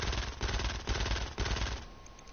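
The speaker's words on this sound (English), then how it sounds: "But it does sound like every other SMG in this game as it stands." A basic SMG firing in Fortnite Save the World: rapid, loud automatic bursts of gunfire in three or four quick strings, close and clear with no talk over it.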